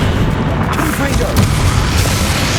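A Confringo blasting spell erupts in Hogwarts Legacy, a loud, rumbling, booming explosion that rolls on for a couple of seconds with a voice mixed in.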